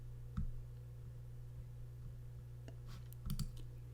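A computer mouse clicks twice while working in the Squarespace website editor, two short, close, fairly distinct clicks spaced a few seconds apart over a steady low electrical hum.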